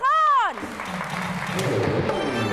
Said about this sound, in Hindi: आपकी बहुत सारी तालियां अली